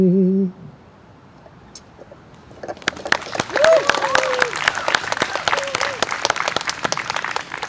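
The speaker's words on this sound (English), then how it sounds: "The applause really helps." A brief sung note ends, a short quiet follows, then an audience at an Independence Day event breaks into sustained applause with scattered voices mixed in.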